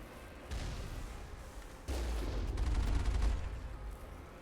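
A cannon fires in the Mass Effect video game, with two abrupt, booming blasts about a second apart, each followed by a sustained rumbling roar and crackle that fades out.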